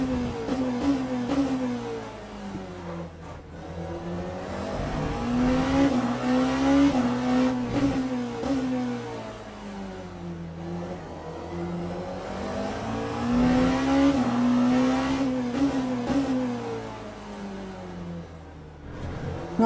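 A BMW GT3 race car engine in Le Mans Ultimate at the Circuit of the Americas, droning and rising and falling in pitch through gear changes and acceleration, steady and fairly loud with no voices over it.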